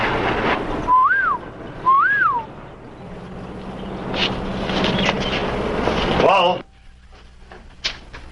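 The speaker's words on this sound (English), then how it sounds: "That was his whistle." A man gives two short rising-and-falling signal whistles, a pair of clear tuneful calls, followed by a low rumble and clatter like a train, then sudden quiet with a faint later knock.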